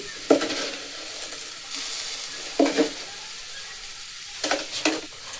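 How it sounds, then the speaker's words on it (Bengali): Carrot and sugar frying in a pan for rasmalai, a steady close sizzle broken by three scraping stirs of a spoon. "নারকেল গুড় যে আমি বেটে রেখেছিলাম সেইগুলোকে এবার সবগুলোকে একসাথে আমি এগুলোকে ভেজে নেব"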